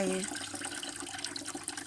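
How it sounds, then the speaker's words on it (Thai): Cloudy rice-washing water is poured into a watering can, giving a brief, steady splashing trickle at close range. "มาใส่ไว้หนึ่งช้อนชาแล้วเทน้ำซาวข้าวลงไป"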